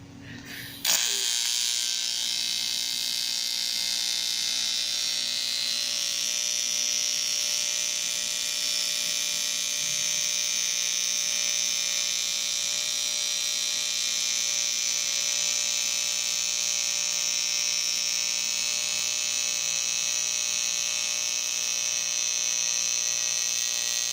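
A welder, turned down somewhat, runs a continuous weld on a Mako tank, producing a steady close buzzing hiss that holds unbroken for over twenty seconds after a brief start.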